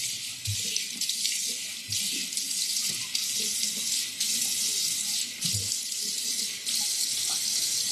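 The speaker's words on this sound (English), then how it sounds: "Let me wash my face now. And then warm water," Tap water runs steadily into a sink for face washing, a continuous close hiss with faint shifts and small splashes, no talking over it.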